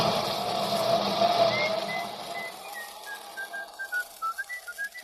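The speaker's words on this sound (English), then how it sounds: "Cut out that whistling." A man whistles a short wandering tune in an old-time radio drama, rising notes with a few staccato chirps near the end, heard over a faint background hum that drops away partway through.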